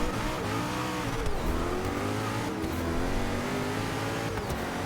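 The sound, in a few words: race car engine in a video game, Agera police car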